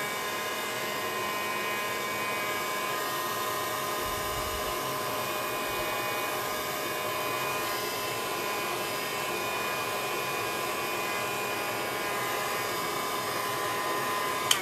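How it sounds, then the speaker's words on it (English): A hair dryer runs steadily close by, drying paint on a handmade DIY "Welcome Home" wall sign, a constant whirring blow of air with an even tone throughout and no talking. "I'll just dry these sides quickly so that we can do stenciling in middle portion as well."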